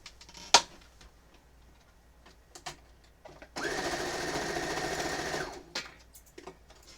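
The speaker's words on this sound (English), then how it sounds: "I will sit and sew them all" A sewing machine stitching quilt pieces for an Amazon Warrior quilt runs in one steady, fairly quiet burst of about two seconds, with scattered clicks and handling before and after.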